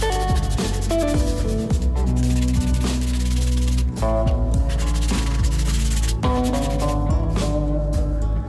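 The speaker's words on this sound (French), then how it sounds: "j'arrondis les angles avec la fleureuse et je ponce" Wood of a DIY laminated yoga bench being sanded after its edges are rounded, a continuous close rasping and rubbing with a steady tonal whine and brief pauses.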